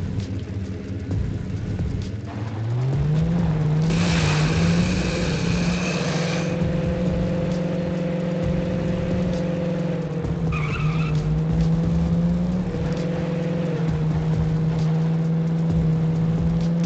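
A car in the video game Defiance drives and skids, with a steady engine drone that rises in pitch as it accelerates, broken by squealing tire slides, all loud and continuous.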